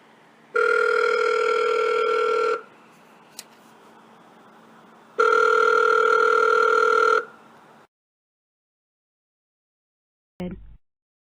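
An outgoing telephone call: two long ringback tones a few seconds apart with a faint tick between them, then quiet and a short click as the line connects.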